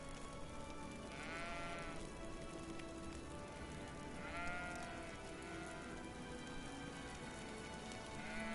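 Sheep bleat twice in a video game, each cry clear over a steady patter of rain, with long rainy stretches between the calls.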